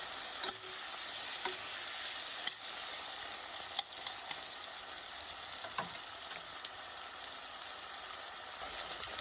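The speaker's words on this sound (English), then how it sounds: "we have to fry all these things" Spices and cashews frying in a pan for hotel-style paneer butter masala, a continuous soft sizzle with occasional light clicks and stirring scrapes.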